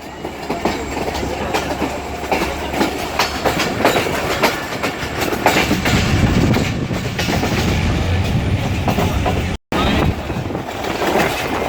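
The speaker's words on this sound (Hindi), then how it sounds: "सुनसान रास्ते और ट्रेन का शोर," The Sukkur Express from Karachi toward Rohri Junction rattles and clatters along the tracks, a loud steady rumble with rhythmic clicking, close by.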